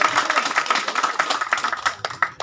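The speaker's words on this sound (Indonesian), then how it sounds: "Tepuk tangan loh." A crowd at a campaign gathering for a city council candidate in Sorong claps in a quick, dense patter of hand claps that continues throughout the short moment.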